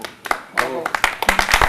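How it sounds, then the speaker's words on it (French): Hands clap in short, uneven bursts from a small audience, with a voice briefly heard among the claps. "On applaudit quand même Sarah très très fort."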